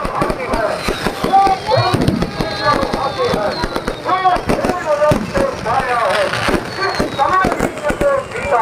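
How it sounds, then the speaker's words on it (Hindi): Dussehra fireworks crackle and pop in dense, rapid bursts around the burning Ravan effigy, loud and continuous, while people talk excitedly close by. "आतिशबाजी चालू हो चुके हैं"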